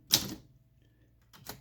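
Typing on a manual typewriter comparing a Voss ST 32 Business-Riter and a Torpedo 18: two sharp, close mechanical key strikes separated by a pause, with a faint ring between them.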